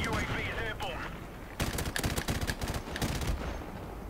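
Rapid gunfire from a weapon in Call of Duty: Modern Warfare Remastered, a burst of sharp close shots rattling for about two seconds after a stretch of dense game noise and faint voices.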